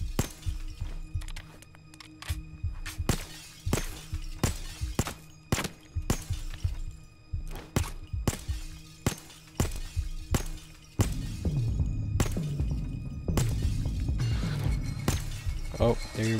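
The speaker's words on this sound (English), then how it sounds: "while breaking the glass" Glass display cases shattering in the video game Payday 2, a jewelry store heist: a long series of sharp crashes in rapid, uneven succession, loud and close. A steadier rumble rises in the second half, and a voice is heard briefly.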